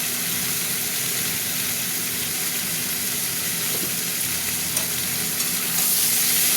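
Fish curry with turmeric and salt being stirred as it fries in a pan, a dense, constant close sizzle with a steady hiss and a faint low hum underneath.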